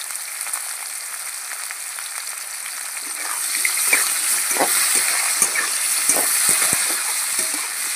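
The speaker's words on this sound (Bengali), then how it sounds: "আলু আর পেঁয়াজটা একটু লাল করে ভেজে নেব" Potatoes and onions sizzle steadily in a hot pan, with a constant broadband hiss that swells slightly midway and brief stirring scrapes and clicks near the end; no voices.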